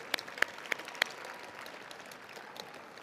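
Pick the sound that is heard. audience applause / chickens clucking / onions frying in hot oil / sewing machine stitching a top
audience applause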